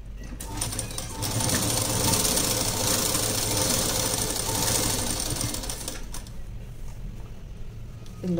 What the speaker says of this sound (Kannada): ನೀವು ನೋಡಿ ಈ ಥರ ನೋಡಿಕೊಂಡು ಸ್ಟಿಚ್ಚನ್ನು ಹಾಕ್ಕೊಬೇಕಾಗುತ್ತೆ.